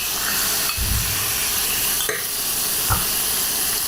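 Prawns fry in hot mustard oil with a constant dense sizzle, broken by a few soft stirring scrapes and clinks of a utensil in the pan.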